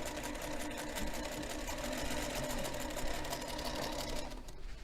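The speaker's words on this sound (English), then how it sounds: "I'm just going to flip around and sew just on the inside of this other line" A Featherweight sewing machine runs steadily through a seam, a continuous close whirring hum with fast needle chatter that slows briefly at the end.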